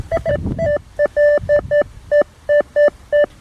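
Metal detector sweeping a beach sand area, giving about a dozen short, sharp electronic beeps in a quick, uneven pattern, close and loud, with a faint low murmur near the start.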